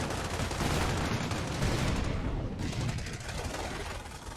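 Dense, continuous machine gun fire rattles through a video game battle, a constant crackling barrage with no pauses, loud and close.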